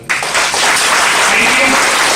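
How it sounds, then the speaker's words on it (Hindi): Loud, close applause from an audience at a team training event bursts in abruptly and holds as an even, full roar of clapping without a break. "बहुत जोरदार ताली"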